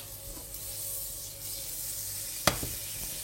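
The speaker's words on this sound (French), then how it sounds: "Dans une poêle bien chaude, on fait revenir une belle noix de beurre." A knob of butter sizzles in a hot frying pan, a steady close hiss with one sharp click or scrape partway through, no voices.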